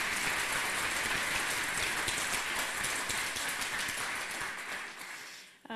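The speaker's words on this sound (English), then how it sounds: "So please give her a huge round of applause." Loud, sustained applause from a conference audience, a dense wash of clapping throughout that starts to thin near the end.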